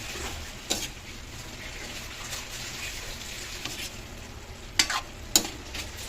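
Pansit bato noodles from Bicol stir-fried in a pan, giving a soft continuous sizzle broken by several sharp clinks of a spatula against the metal.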